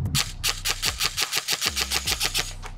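Specna Arms airsoft AEG firing a rapid burst of about a dozen sharp, evenly spaced shots, each with a crisp snap and mechanical whir, loud and close with no talk.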